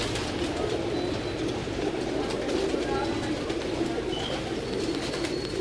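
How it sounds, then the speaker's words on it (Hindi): Pigeons coo in a hobbyist's rooftop loft, with soft repeated calls blending into a steady outdoor background of birds and ambient noise while someone talks over them. "ये देखें जी कबूतर हैं तमाम"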